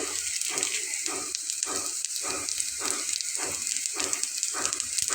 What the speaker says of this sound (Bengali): এখন আমি এর ভেতরে গোটা জিরা দিয়ে নেব।